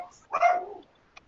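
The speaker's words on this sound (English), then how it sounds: "I can't do anything about the dog, unfortunately." A dog gives a single short bark, moderately close, followed by a faint tick and then quiet.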